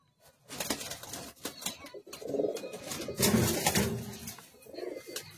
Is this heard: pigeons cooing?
yes